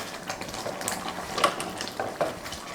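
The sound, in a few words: lentils boiling in a pot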